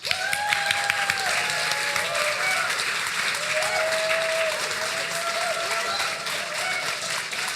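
An audience at a Relief and ITAVision event bursts into loud, sustained applause for Rutgers, steady clapping with cheers and whoops across the whole stretch.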